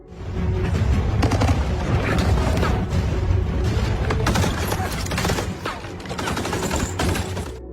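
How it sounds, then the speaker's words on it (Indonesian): Rapid bursts of gunfire crackle and boom in a dense, chaotic exchange around a bus in a film shootout, loud and sustained throughout with overlapping shots. "terjadi lagi aksi tembak-tembakan"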